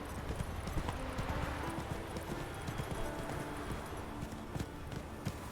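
Hooves of Geralt's horse Roach in The Witcher 3, a steady rapid clip-clop of a trotting horse on the ground, moderately close, with no talk over it.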